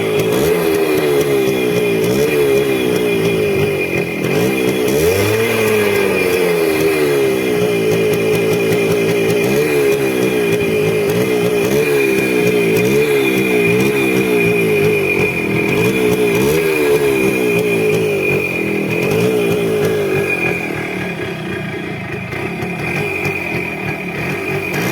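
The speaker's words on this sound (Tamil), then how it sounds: "நம்ம இன்னொரு தடவை இன்ஜின் சவுண்டை செக் பண்ணிக்குவோம்." A restored Suzuki Max 100R two-stroke motorcycle engine runs steadily for the whole stretch, buzzing continuously close to the microphone with small rises and falls in revs, easing off slightly near the end.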